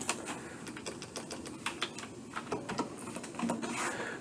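Fast, light keystrokes on a computer keyboard while typing code, an irregular run of close, quiet clicks with no talk.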